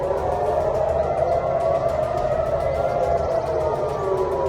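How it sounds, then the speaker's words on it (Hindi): A wailing air raid siren in Israel drones continuously during a ballistic missile attack from Yemen, its pitch slowly rising and falling, loud and steady with a distant, echoing quality. "देर रात सायरन की आवाज से गूंज उठा इजरायल।"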